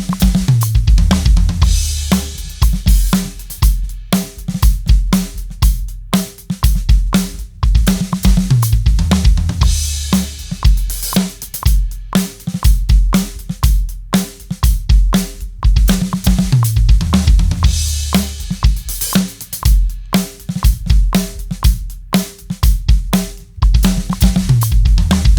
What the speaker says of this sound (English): now that sped up to 120 beats per minute sounds like this